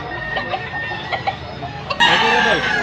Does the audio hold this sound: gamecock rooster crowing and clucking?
yes